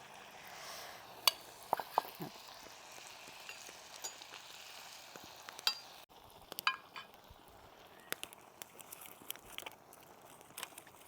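Kudangal appam fries in coconut oil, giving a quiet, steady sizzle with scattered small pops and crackles throughout, and no voices over it.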